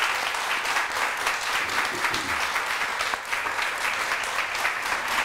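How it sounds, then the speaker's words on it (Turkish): A television studio audience applauds steadily for several seconds, a dense, even wash of clapping heard alone at moderate level. "Hadi alkışlarla onları da alalım."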